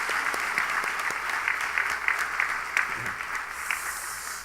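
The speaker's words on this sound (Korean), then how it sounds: "여러분 박수 한번 부탁합니다" A church congregation applauding at a revival gathering in Haeundae, Busan, a dense steady patter of many hands that fills the room at moderate loudness and carries on for several seconds without a break.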